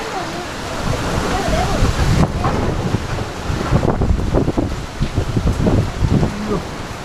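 A powerful windstorm gusts around a house in Mundakayam, roaring loudly and continuously into the microphone with buffeting surges, and people speak faintly beneath the noise.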